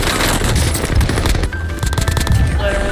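Bursts of automatic gunfire in Warzone rattle loudly and rapidly, overlapping into dense fusillades with short gaps, set against busy game noise.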